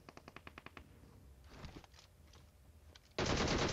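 Automatic gunfire in PUBG Mobile: a rapid burst of about eight close shots, then scattered quieter shots and game noise, ending in a loud sustained roar of sound.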